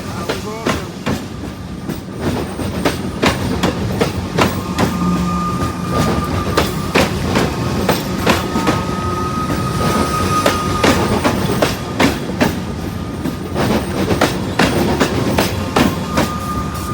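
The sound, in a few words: train passing on rails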